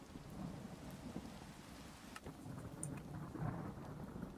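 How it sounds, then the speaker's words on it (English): Rolling thunder in a Minecraft storm over a bed of steady rain, a low rumble with a sharp crack midway, fairly quiet overall. "The thunder is loud."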